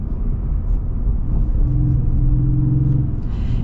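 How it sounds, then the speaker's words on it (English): A deep, steady engine rumble idles low and continuous, close by, with a slight rise in tone partway through. "This engine's smooth too. Yeah, listen to that."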